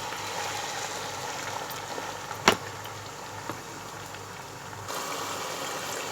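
Minced meat (keema) fries in a pan with ginger-garlic paste and garam masala for old Delhi style aloo matar keema, giving a steady, even hiss with one brief clack partway through.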